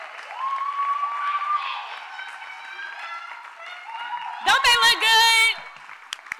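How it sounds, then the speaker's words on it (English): Pageant audience applause and cheering under loud tonal music, with a brief louder swell of cheers and sustained sound near the end; the applause sits mostly beneath the music. "Let's give them another round of applause."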